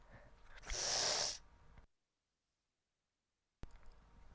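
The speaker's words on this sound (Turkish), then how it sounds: "burnumu çekecekken mikrofonu kapatamadım" A single loud, breathy nasal sniff lasting under a second, close to a gaming microphone, then the sound cuts out to dead silence before faint noise returns.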